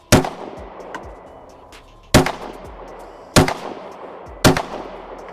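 Four loud gunshots ring out from a Springfield Echelon pistol with a Vortex red dot at a shooting range, spaced about a second apart, each a sharp near crack trailing into echo.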